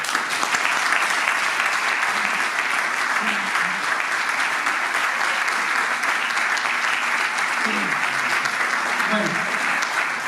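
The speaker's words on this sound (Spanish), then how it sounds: "yo voy a pedir un fuerte aplauso para todos" Loud, sustained applause from a conference audience fills the room with steady clapping; a voice briefly speaks near the start and a few faint voices surface toward the end.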